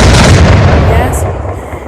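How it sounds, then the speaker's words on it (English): Booming blasts of fireworks in the video game Firework Mania, a loud, heavy burst of explosions that rumbles and then fades into a decaying crackle. "Let's do the explosions."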